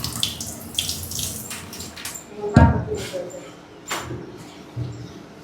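Water splashes out in a few short pours and gushes, loud and close, with brief trickles between them.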